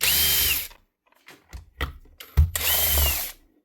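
Power tool backing screws out of a broken SDS drill during repair, two loud whirring bursts at the start and end, with clicks and clattering parts handled in between.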